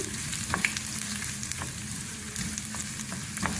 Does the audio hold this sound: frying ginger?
yes